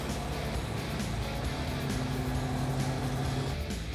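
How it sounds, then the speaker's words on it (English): A car engine idles with a steady, even low rumble and hum, constant and fairly close, with no voices. "God, it's even idling nice."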